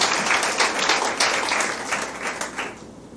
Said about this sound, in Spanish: ¿No le da un aplauso al Señor?